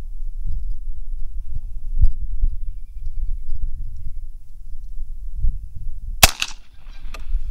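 A single sharp crack from a Savage A17 rimfire rifle cuts through a quiet outdoor background of low rumble, close and loud near the end, followed by a faint ringing tail.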